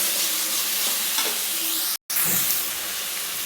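Masala noodle ingredients fry in a pan with a loud, dense hiss and sizzle that cuts out for an instant midway before resuming.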